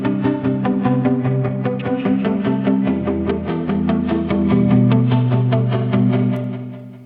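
A musical sample passes through the BlurredDelay ping pong delay plugin with its spread knob at 50%. Steady, dense echoing tones repeat and smear continuously for several seconds, moderately loud, with no voices.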